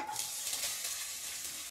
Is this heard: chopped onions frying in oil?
yes